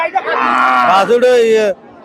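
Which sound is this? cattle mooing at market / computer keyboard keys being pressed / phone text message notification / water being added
cattle mooing at market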